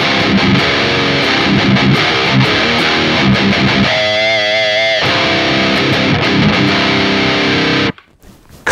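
Heavily distorted electric guitar through a Neural DSP metal amp plugin plays chunky metal riffs continuously, with a brief sustained ringing passage midway, then cuts off abruptly near the end.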